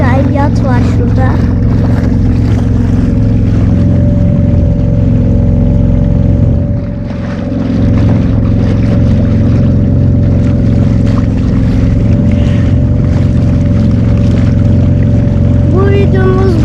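A tour boat motors nearby on the water in Sığlıman Cove, a steady engine drone and churning wash running throughout, with a voice talking over it.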